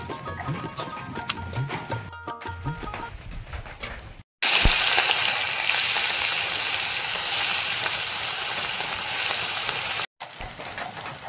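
Fish fries in hot oil as part of a village-style meal, a loud, dense, steady sizzle that sets in abruptly after some quieter clatter and cuts off sharply near the end.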